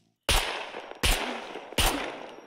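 Three sharp gunshots from a zombie video game fire in a steady sequence about three-quarters of a second apart, each a loud crack with a short ringing tail.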